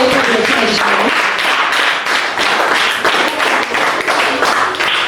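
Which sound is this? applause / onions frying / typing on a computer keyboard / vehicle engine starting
applause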